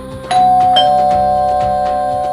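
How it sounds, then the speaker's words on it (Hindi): A house doorbell rings with a clear electronic ding-dong chime, sounding twice in quick succession near the start and then ringing out in a sustained tone, loud and close with no talking. "घर की बेल बजी।"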